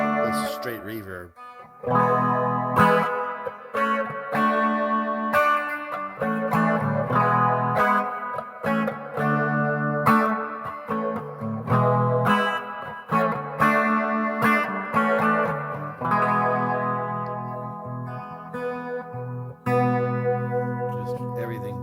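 Electric guitar played through a Line 6 Spider II modeling amplifier with a straight, spacious reverb, chords and notes ringing out continuously at a steady, fairly loud level.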